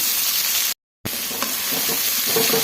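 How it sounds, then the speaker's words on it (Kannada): Dried red chillies, garlic and onion fry in hot oil for a soppu bassaru and palya, giving a steady close sizzle with stirring clicks, broken by a brief total silence near the start. "ಇವಾಗ ಒಣಮೆಣಸಿನ್ಕಾಯಿ ಸೇರಿಸ್ಕೊಳ್ಳೋಣ ಬೆಳ್ಳುಳ್ಳಿನೂ ಸೇರಿಸ್ಕೊಳ್ಳೋಣ ಈರುಳ್ಳಿನೂ ಸೇರಿಸ್ಕೊಂಡು ಚೆನ್ನಾಗಿ ಫ್ರೈ ಮಾಡ್ಕೊಳ್ಳೋಣ"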